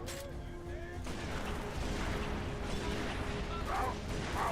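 Dense, continuous gunfire from the video game Halo 3: ODST fills the whole stretch, a loud rattling barrage with a few mechanical clanks and faint tonal effects mixed in.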